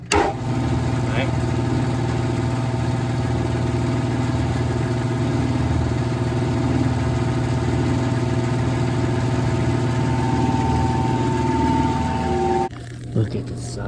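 Large electric motors on an old Ross custard machine run with a loud, steady hum and whine for several seconds, then cut off abruptly near the end.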